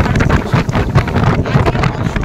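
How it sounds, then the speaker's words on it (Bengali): Strong, gusty wind on the Indian Ocean shore at Dhanushkodi buffets the microphone with a constant roaring rumble, loud and close, with no voices. "আর হাওয়া তো এত বেশি যে একটা জায়গায় স্থির হয়ে দাঁড়ানো যাচ্ছে না"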